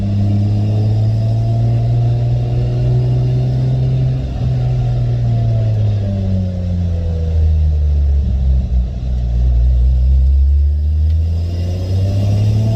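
A Lexus GS300 fitted with a 2JZGTE engine and R154 gearbox pulls hard through the gears. The engine note is loud and close, climbing in pitch, dropping at each shift, then rising again.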